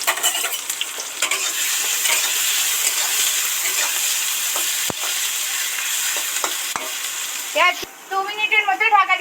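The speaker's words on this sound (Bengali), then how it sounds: "এবার এর মধ্যে পেঁয়াজ কুচোটা উঠিয়ে দিচ্ছি" Chopped onion sizzling steadily as it fries in hot oil with dried red chili and bay leaf, a dense continuous hiss with occasional stirring clicks, close and loud throughout, with a brief voice near the end.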